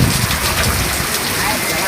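Heavy rain pouring at an outdoor market and fish landing in Oeba, a loud, dense, close hiss of drops drumming on surfaces throughout.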